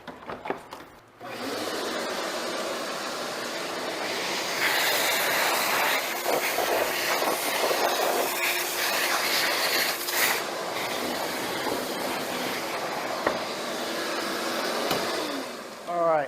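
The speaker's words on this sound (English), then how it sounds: "now let's get a shop vac." A shop vacuum runs steadily, sucking up MDF dust left after a ShopBot CNC router cut a nameplate, a loud continuous broadband roar with rattling debris and faint background talk.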